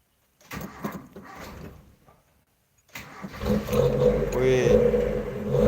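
A car engine, idle for a long time, cranks and catches after a stretch of talk, then settles into a loud, steady warm-up idle with a rising tone near the end.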